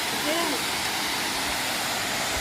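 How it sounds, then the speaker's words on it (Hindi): Abbey Falls in Coorg, a waterfall heard as a loud, steady, broadband roar that fills the whole stretch without a break. "बहुत ही बढ़िया वाटरफॉल है."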